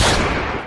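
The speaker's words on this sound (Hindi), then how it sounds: "बेबी फिर से गोली चली, जाओ देख कर आओ।" A loud, sudden gunshot in a Hindi comedy cartoon, a single broad blast that fades quickly, with no talking.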